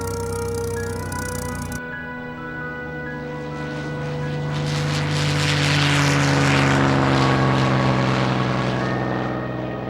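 A rebuilt P-51 Mustang fighter, the Red Tail plane named Tuskegee Airmen, drones by with a steady propeller engine tone that swells louder midway as it passes near, then eases slightly.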